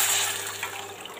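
Tamarind water being poured into a pot of tomato and pepper rasam, a steady liquid splash running throughout with a brief louder slosh at the end; no talking.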